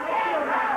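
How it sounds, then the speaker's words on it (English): A wrestling arena crowd at a 1989 Memphis championship wrestling event chants together in a dense, steady roar of many voices, loud and continuous through the short moment. "Crowd chanting rock and roll at him."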